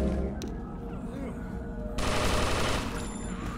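Rapid bursts of Magnum gunfire in a shooter video game, loud and dense shots cracking close over game noise, growing heavier midway through.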